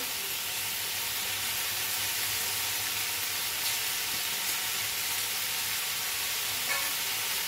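Drumstick leaves hitting a hot pan, giving a steady, loud, dense sizzle that fills the whole stretch with only faint stirring ticks on top.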